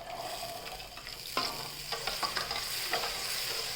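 Soaked, boiled chana being stirred into a tamarind rice mix in a pan, giving a few scraping stirs and soft clatters over a steady low sizzle, close and moderately loud with no voices.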